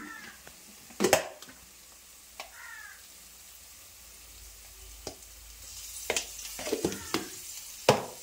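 Ginger garlic paste frying in a pan for paneer masala curry, with a quiet sizzle broken by sharp scraping stirs and clatters of a spoon against the pan, close by and with no talking.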